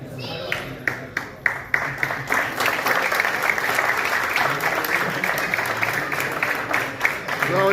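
At an Indian community honour ceremony, a few scattered claps quickly swell into steady applause from a gathered audience, continuing at even strength, with a voice speaking over it at moments.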